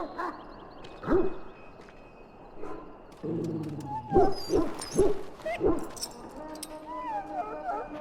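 Injured dog in the fantasy game Dragon Age: Origins, letting out several short whimpers and yelps at irregular intervals, close and fairly loud, with a brief stretch of speech in between.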